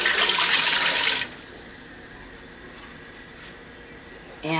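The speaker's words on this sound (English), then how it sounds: "now we're going to add the rest of the apple juice" Apple juice pours into a pot for a basil syrup, a loud splashing gush for about a second that then drops to a faint trickle before a short noise at the end.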